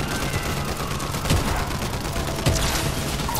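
Rapid bursts of video game gunfire rattle throughout, with sharper close shots near the middle and end of a dense, continuous firefight.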